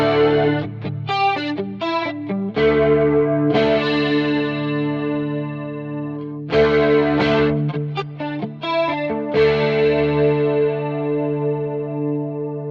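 An electric guitar through a Quad Cortex chorus effect with morph switched off plays sustained, shimmering chords with quick strums in between, loud and close with a wide, wavering texture.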